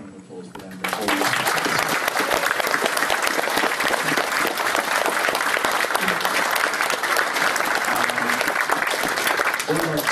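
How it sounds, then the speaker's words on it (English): Convention audience at an anime convention closing ceremony gives the games room team a big round of applause, sustained loud clapping that starts abruptly after a short voice and continues with cheering throughout. "Big round of applause for them."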